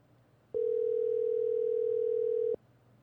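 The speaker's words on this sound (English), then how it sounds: "They let these phones ring." A phone ringback tone sounds on an outgoing call during a podcast, one steady electronic tone lasting about two seconds, clear and alone over quiet room background.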